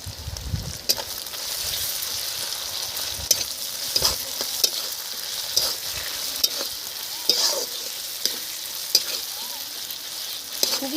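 Ginger garlic paste frying and sizzling in a pan for a home-style rohu fish kalia, a steady crackling hiss with a run of sharp stirring clicks and scrapes, close and even, with no talk.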